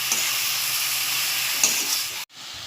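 Jaggery melts in a pan for haleem laddoos, giving a continuous close sizzling hiss with a few soft stirring scrapes, steady until it suddenly cuts off near the end, no talk.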